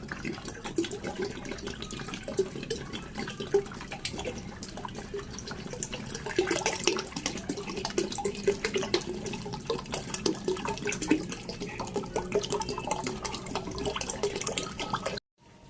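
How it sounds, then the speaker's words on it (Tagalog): Water runs steadily from a tap into a plastic bucket being filled with about 14 liters, a continuous splashing, gurgling pour that stays loud and close before cutting off abruptly at the end. "after mailagay yung 14 liters na tubig dito sa timba"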